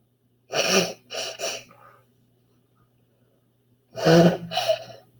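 A person sneezes loudly and close by in a quiet room, a sharp burst followed by two quicker bursts, then a second strong sneeze with a trailing catch of breath a few seconds later.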